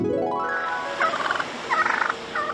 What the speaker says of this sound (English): the wild turkeys who were running wild in Montreal